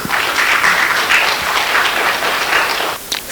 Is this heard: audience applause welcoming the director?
yes